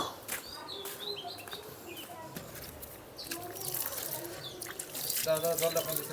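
Water poured onto a newly planted litchi tree in freshly dug soil outdoors, a soft splashing trickle that grows toward the end, with birds chirping nearby and a person talking.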